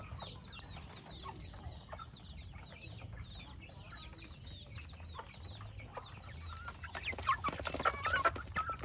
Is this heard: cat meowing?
no